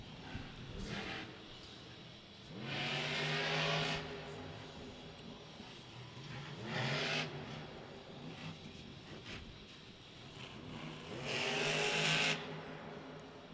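Monster truck engines roar in a stadium during a Monster Jam event, with three long, loud revving surges separated by lower rumbling idle, the motors climbing in pitch as they rev up.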